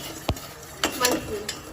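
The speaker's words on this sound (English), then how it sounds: "Now let's add tea leaves." A spoon knocks a few times against a pot on the stove while tea leaves go in: three or four sharp, close clinks over a faint background hiss.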